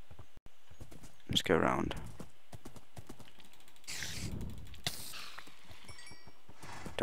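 Horse hooves clip-clopping in Minecraft gameplay, a few scattered hoof taps at moderate volume under a man's speech and game sounds.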